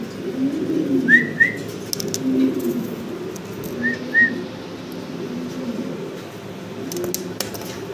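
Fancy pigeons at a farm give a low, steady murmur of coos close by, with a couple of short, high whistling chirps from other birds over the top.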